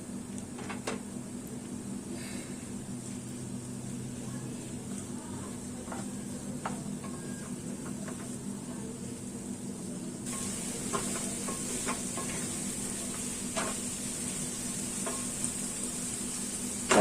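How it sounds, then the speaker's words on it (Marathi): Chopped onion and a large finely chopped tomato stirred together in a hot pan, a faint continuous sizzle with soft scraping strokes throughout and no talking. "टोमॅटो कांदा छान असं एकजीव करून घ्यायचा आहे आपल्याला"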